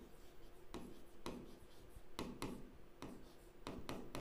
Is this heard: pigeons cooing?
no